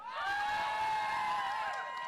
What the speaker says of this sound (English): the crowd is firmly behind Darth Tato